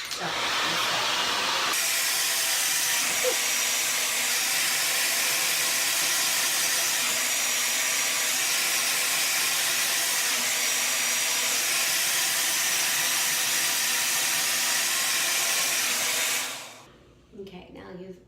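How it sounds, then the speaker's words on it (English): A blow dryer roars with a steady high-pitched whooshing hiss for a long stretch, then switches off near the end. "before you pick up the blow dryer"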